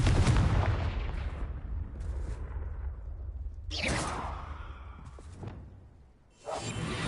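Confringo blasting spell cast in the Hogwarts Legacy video game: a loud whooshing burst opening into booming, rumbling blasts, with sharp swooshes and further impacts following in a busy, near game soundscape.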